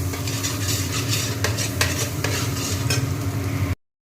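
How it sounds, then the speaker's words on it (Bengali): Crushed garlic sizzles and crackles in hot butter in a pan while a utensil stirs and scrapes repeatedly, then the sound cuts off abruptly. "এইবার এটাকে ভাজতে থাকবো ভালো করে।"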